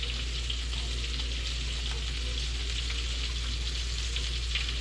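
Pieces of freshly caught octopus sizzle and fry steadily in a hot pan, a continuous crackling hiss with no talk over it.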